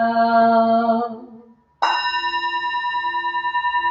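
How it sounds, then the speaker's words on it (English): A meditation bell at a Sunday Dharma service: one tone fades to near silence, then a fresh strike rings out clear and sustained, its pure, steady overtones shimmering with a gentle pulsing beat. "the sound of the"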